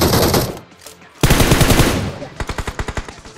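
Automatic gunfire in the BGMI battle royale game, loud close bursts followed by a rapid, evenly spaced string of shots.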